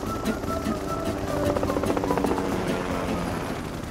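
A cartoon school plane flies with a steady, throbbing, rotor-like engine drone that stays loud and continuous the whole time, with no talking over it.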